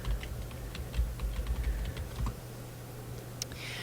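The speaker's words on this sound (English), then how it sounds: "So I'm just going to type in." Quick bursts of light key clicks from a computer keyboard, close and fairly quiet, tapering off after a couple of seconds.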